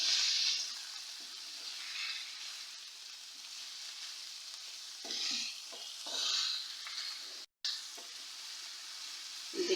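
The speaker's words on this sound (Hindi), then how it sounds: "इसको भी अच्छी तरह मैं फ्राई कर लेती हूँ" Small chicken cubes fry in a pan with a quiet, steady sizzle, broken by a few louder hissing swells and scraping stirs, and one brief dropout to silence.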